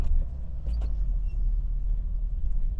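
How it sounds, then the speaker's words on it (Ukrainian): A car pulls away from a standstill in first gear with added throttle, a loud, close low engine rumble holding steady for a few seconds. "Можна на щеплення, але додаю, звісно, газ, щоб рушити швидше."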